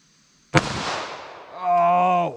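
A single sharp revolver shot of a .32 H&R Magnum lead round at a pop can, loud and close, with a long decaying tail followed by a steady tonal ring.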